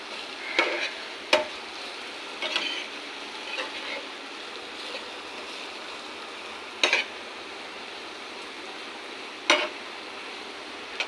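Chopped jackfruit seeds fry in a karahi with a steady low hiss of oil, broken by occasional sharp clicks and scrapes of a utensil against the pan.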